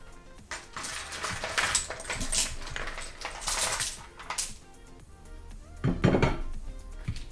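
Pork and clams being mixed in a Thermomix pot, with clinking shells and scraping utensil against metal in repeated bursts, close and busy, with no talk.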